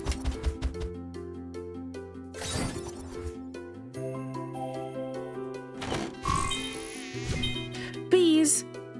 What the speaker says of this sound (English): There was a bee trap that spawned in the water.